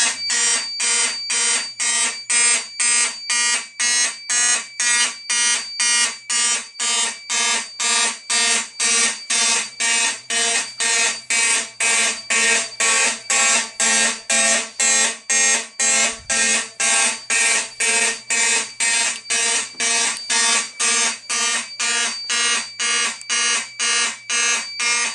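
A mechanical fire alarm horn blares during a system test, a loud, steady train of rapid, evenly spaced blasts that runs unbroken for the whole stretch, close and harsh.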